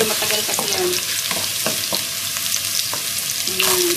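Carrots and potato sautéing with spices for homemade sambar, a loud steady sizzle close up with repeated scraping stirs of a spatula through the pan and no voices.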